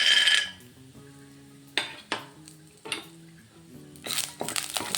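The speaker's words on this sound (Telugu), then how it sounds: "ఇప్పుడు దీంట్లో పల్లీలు వేసుకుందామండి మనం." Peanuts tipped into a pan of hot oil for frying, a few bursts of rattling and scraping against the pan with a soft sizzle between them, close and fairly loud.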